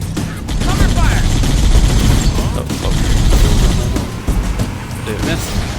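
Dense, rapid gunfire from the video game Halo: Combat Evolved fills the whole stretch as a loud, continuous barrage of overlapping shots and booms, with voices faintly mixed into the chaos.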